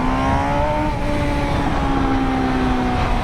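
A car engine held at its 16,000 RPM rev limit, a loud, steady high-pitched scream with strong harmonics and no talking; any exhaust pops are not distinct.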